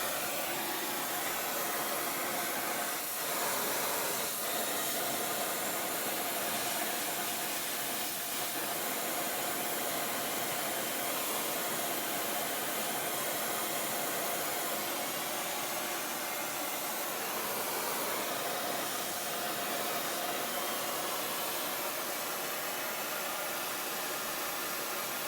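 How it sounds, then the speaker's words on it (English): Spark plugs from a 1967 Triumph Spitfire MK3 being cleaned in a spark plug cleaner, a loud continuous blasting hiss that holds steady throughout, close and alone. "let's clean these spark plugs with my special spark plug cleaner"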